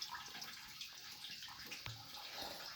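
A 1960 Frigidaire Custom Imperial Multimatic washer filling with water, a steady, soft rush of water pouring into the tub with no pauses and no talking.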